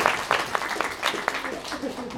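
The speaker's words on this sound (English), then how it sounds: "give a big round of applause for Paul." An audience at a Wonderfest 2012 talk breaks into applause, a burst of clapping heard under a speaker's voice that keeps talking over it.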